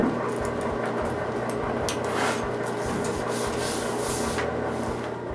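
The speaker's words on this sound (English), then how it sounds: "I use a roller on the formica to make sure it sticks well over the entire surface." Roller pressed over a Formica sheet on plywood in a workshop, making a continuous close rubbing, rolling rumble with slight rhythmic variation throughout.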